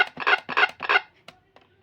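A toy piano's frog sound effect plays three rasping, evenly spaced croaks in quick succession, followed by a few faint clicks near the end.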